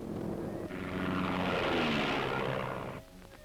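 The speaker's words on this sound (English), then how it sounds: "Search plane, off to the area named in the last radio message to scan the sea." A search plane flies over the sea, its engine drone swelling into a loud, steady roar that peaks overhead and then cuts away, with no voices present.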